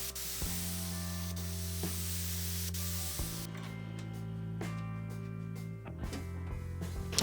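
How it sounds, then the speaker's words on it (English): Steady hiss of a spray gun laying down white lacquer on a wooden table base over a constant low machine hum, running continuously and fairly close, with a few soft clicks. "We spray a white lacquer on the base."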